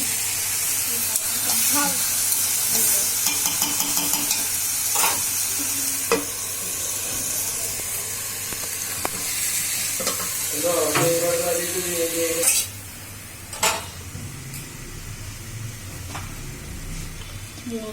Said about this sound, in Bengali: চুলায় ভাজি বসাবো, ভাজিটা বাগার দিব।